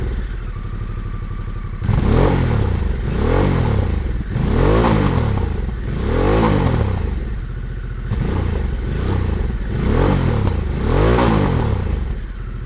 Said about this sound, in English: you know it's a big 1250 V-twin, it has so much potential to sound awesome